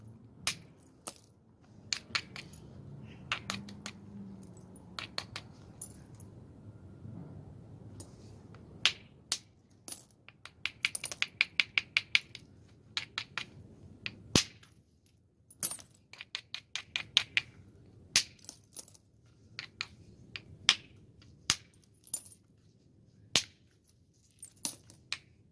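Sharp percussion strikes on an obsidian biface, stone knocking on stone as flakes come off a beveled edge; scattered crisp clicks and taps, sometimes in quick clusters, with quiet pauses between, close and alone.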